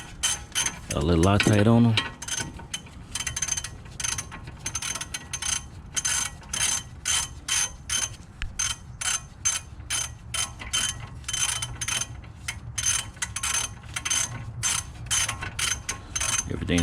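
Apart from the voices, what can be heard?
tightening Audi A7 front brake bolts with a ratchet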